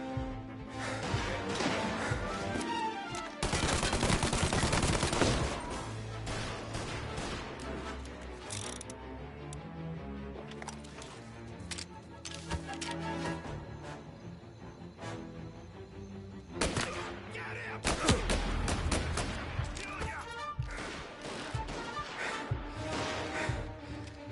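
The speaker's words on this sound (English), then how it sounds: "All on-duty officers, gunshots being reported." Chaotic Mafia: Definitive Edition game action with repeated sharp gunshot bangs and crashes over layered music and effects, busy and loud throughout.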